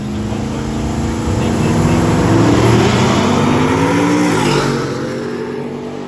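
A Chevrolet C10 truck accelerates hard down a drag strip, its loud engine roar rising in pitch and swelling through the middle before fading, heard up close along with crowd ambience and voices.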